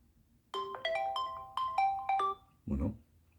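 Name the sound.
ringtone notification sound on ZTE Axon 30 5G phone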